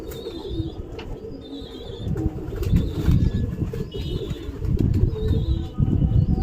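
Pigeons pour out of their loft through an opened gate, with soft cooing and bursts of wing flapping over a steady, busy murmur that lasts throughout.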